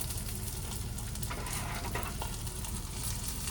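A chicken breast fries in oil in a pan, giving a steady, loud, close sizzle with crackling spatter throughout and no talking.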